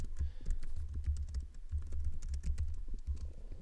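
A computer keyboard clatters with quick, uneven bursts of key presses and brief pauses, close and steady, with no voices during the typing.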